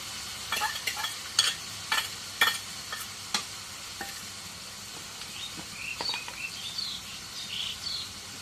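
Spices being stirred in a pot while cooking pulao with aromatic atap rice and goat fat, together with turmeric, ginger, garlic and garam masala. Close, intermittent scraping and clattering strokes come in short bursts over a faint sizzle, with no talk.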